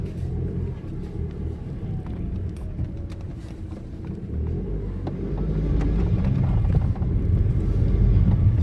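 BMW 118d E82 diesel hatchback driving with its engine running, a low steady rumble with wind noise that grows louder toward the end, no talking.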